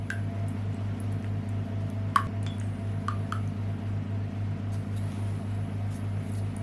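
A fork or whisk beats egg yolk with a splash of water in a bowl to make a glaze for a galette des rois. The clinks are light and sparse, sitting over a steady low hum with no talking.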